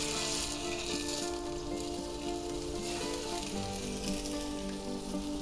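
Johnsonville mildly spicy Italian sausage links sizzle and fry in a hot pan, a steady crackling hiss with scattered pops, loud and close, going on without pause.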